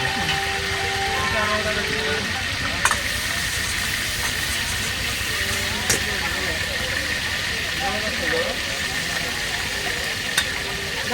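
Octopus and crab deep frying, a continuous hissing sizzle with occasional sharp clicks and clanks, under people talking.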